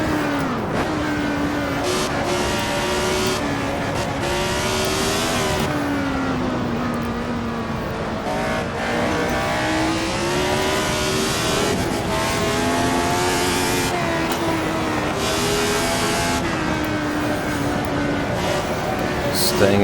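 Lotus 72D race car engine in a racing video game, a loud close engine held in one gear, rising and falling in pitch as it accelerates and eases through corners, continuous throughout.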